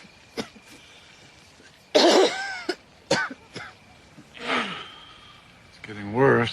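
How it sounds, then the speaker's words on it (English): A man coughs hard and repeatedly, with wheezing throat-clearing and gasping between the fits, up close in a quiet night setting in a wartime drama; the harsh bursts come in separate rough episodes, some sounding chesty and laboured. "It's getting worse, that cough."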